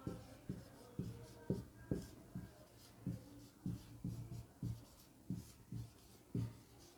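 Pen writing notes on paper, a quiet series of short scratching strokes in an irregular rhythm, close and faint, with no talking.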